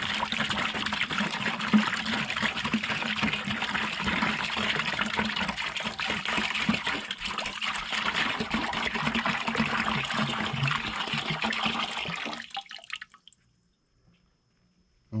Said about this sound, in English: pour in a gallon of water